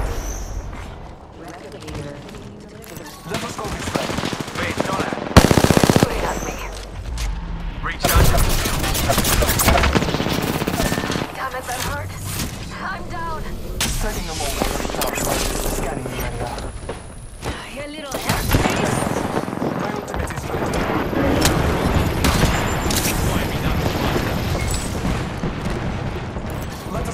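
Gunfire rattles through a fight in Apex Legends as loud rapid bursts and sustained volleys. Booms and impacts mix in, a voice talks over it at times, and the shooting stays dense throughout.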